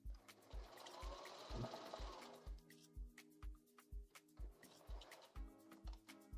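Sewing machine running steadily as it stitches knit fabric, a rapid rhythmic chatter of needle strokes that pulses in short bursts, close and clear with no talking.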